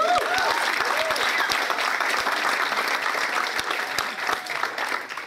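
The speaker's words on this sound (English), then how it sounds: "Why don't we give these guys a round of applause?" Wedding guests give the groomsmen a warm round of applause, the claps dense and close. A few sharper individual claps stand out early, and the clapping thins slightly toward the end.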